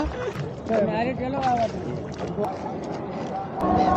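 A boat moves along the river at Triveni Sangam with a steady rushing drone of water and wind, and voices talk over it.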